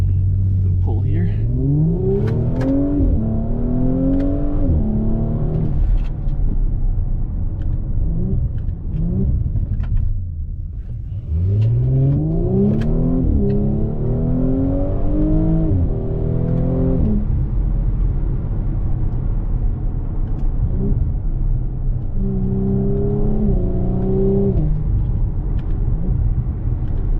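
A 2023 Audi S4 B9.5 with the S Sport package accelerates hard through several gears, its engine and exhaust rising in pitch, dropping on each shift, loud and close from inside the cabin.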